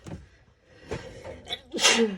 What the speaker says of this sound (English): Oh my goodness, am I going to sneeze?